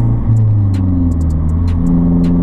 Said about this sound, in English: I'm going to do a third gear wide open throttle pull